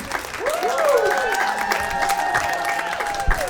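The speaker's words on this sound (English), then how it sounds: "Start clapping right now for the funny, the talented MATTY, Ryan" A comedy club audience applauds a comedian at a SXSW comedy showcase, steady clapping from a full room with cheering and whoops rising over it, loud and sustained throughout.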